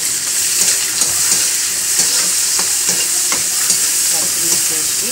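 Curry leaves and green chillies frying in oil, a dense continuous sizzle with light stirring taps throughout, close and loud, no voices.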